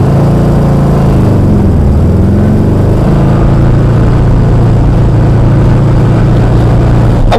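A 1968 Porsche 912 with a 1600cc engine in city driving, lugging at around 3,000 rpm: a loud, steady, low droning engine rumble heard from inside the car throughout, with a slight change in pitch early on.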